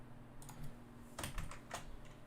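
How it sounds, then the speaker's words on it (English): Fingers type on a computer keyboard while code is entered for a visual-effects shot, with a few scattered keystrokes and then a quick cluster of sharper clicks, quiet and close, with no talking. "this is always fun typing this out"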